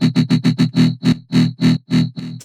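Deep, heavily distorted dubstep growl bass run through a convolver set to growlish with metallic tones, sounding as a rapid series of six short choppy hits followed by longer sustained pulses, loud and dry with no voice.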